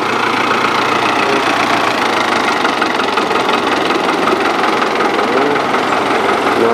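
An old Kubota M4000 tractor fitted with a Fiat 8400 engine idles loudly and steadily nearby, a dense, even diesel rumble with a knocking undertone and no variation in pace.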